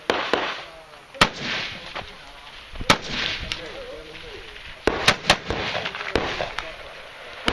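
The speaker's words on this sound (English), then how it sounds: "Tell him to take the shots and go, Tom." Sharp gunshots ring out at a 3-gun shooting match, loud single cracks spaced irregularly and then in a quicker cluster, with people talking between shots.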